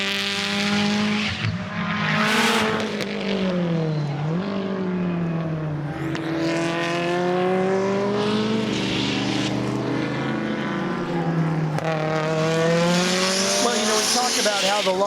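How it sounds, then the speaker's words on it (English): A turbocharged station wagon race car with aerodynamic and suspension upgrades runs hard on a track. Its raucous engine rises and falls through shifts and passes, loud and close, with a brief whoosh and faint talk mixed in. "this thing is a raucous little station wagon"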